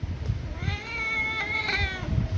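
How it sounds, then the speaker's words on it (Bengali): A pet cat being bathed lets out a long, drawn-out plaintive meow up close, with soft splashing and handling noises around it. "ম্যাও ম্যাও"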